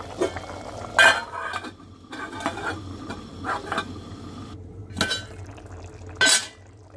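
A spoon stirs chicken cooking in a covered pot with scrapes, clinks and faint sizzling, and a few sharper metallic knocks stand out in a quiet kitchen.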